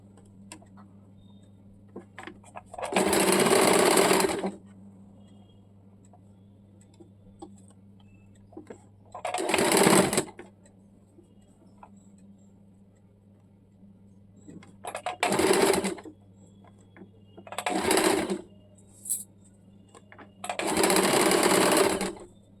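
A sewing machine runs in five separate bursts of fast stitching along the hem of a baby umbrella frock, each lasting one to two seconds, with quiet pauses between them and a steady low hum underneath.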